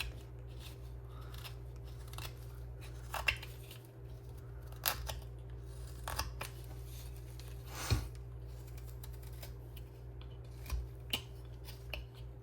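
Hand-carving a wooden figure, knife paring away material near pencil lines: quiet, irregular scraping cuts with sharp clicks scattered throughout, close by under a steady low hum.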